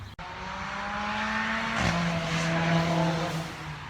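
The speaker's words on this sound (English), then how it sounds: "the traffic's starting to pick up" A car passes on a road after a storm, its engine swelling steadily louder, then a brief tire hiss as it goes by close, with the drone fading slightly afterward.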